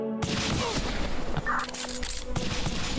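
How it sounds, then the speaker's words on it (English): Rapid pistol shots from twin handguns in the video game Beyond Citadel, dense bursts of gunfire over a busy game soundscape, with a voice talking faintly underneath. "Goddamn dual pistols."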